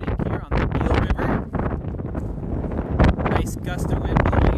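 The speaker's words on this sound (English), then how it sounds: "Nice gust of wind blowing in right as I start." A strong gust of wind buffets the microphone outdoors by the Eel River in Humboldt Redwoods State Park, loud and continuous rumbling under someone speaking.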